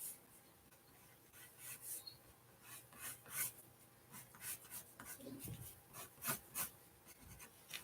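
A pencil sketches grain lines on miniature wooden floorboards in a dollhouse, with soft, quiet scratchy strokes repeating in a steady back-and-forth rhythm, close and faint, with no talking.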